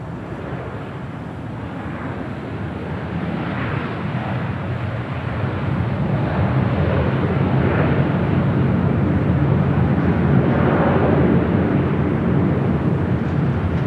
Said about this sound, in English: That was American Airlines Flight 255 coming in from JFK and that A321.